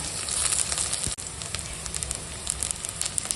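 Cumin paste and ginger-garlic paste hit onions frying in hot oil, setting off a loud, crackling sizzle that drops briefly and then carries on steadily. No one speaks.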